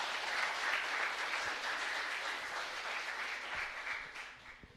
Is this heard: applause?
yes